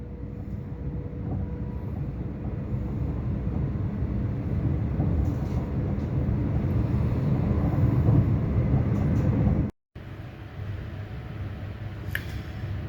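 A passenger train bound for Peterborough rumbles steadily from onboard, a constant low drone of wheels and carriage noise with a brief dropout near the end.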